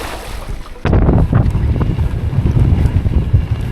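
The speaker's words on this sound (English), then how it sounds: "Wind's picked up." Strong wind buffets the microphone on a Berwyn Mountains pass during an e-bike ride, starting suddenly as a loud, steady, rumbling roar that gusts and continues without a break.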